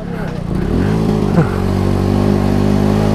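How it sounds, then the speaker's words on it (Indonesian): A motorcycle being ridden at night along a forest trail, its exhaust starting to rattle, gives a steady close engine drone with a brief rev, and a voice talks over it. "Knalpot sudah mulai gaduk."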